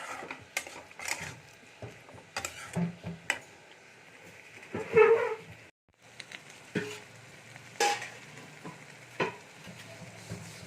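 Fried potato and pointed gourd are stirred in a hot pan for a vegetarian chana potol curry, with repeated scraping strokes over a steady soft sizzle and a short pause midway.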